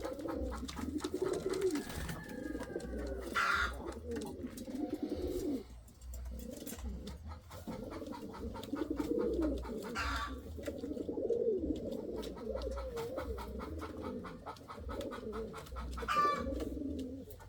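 Indian fantail pigeons coo in low, rolling, overlapping calls, steady and fairly close, with brief higher chirps from other birds nearby.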